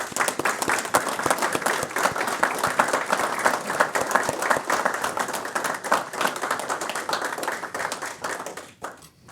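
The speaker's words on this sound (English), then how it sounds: "I think we'll naturally want to clap." An audience at a fire department headquarters breaks into sustained, dense applause to welcome a cardiac arrest survivor, loud and continuous clapping from a crowd that fades out at the very end.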